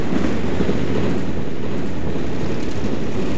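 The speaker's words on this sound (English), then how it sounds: "A restored line, the Severn Valley Railway, runs between Kidderminster and Bridgnorth in Shropshire." Train on the restored Severn Valley Railway between Kidderminster and Bridgnorth in Shropshire, a loud, close, continuous rolling rumble with faint clattering of wheels on track.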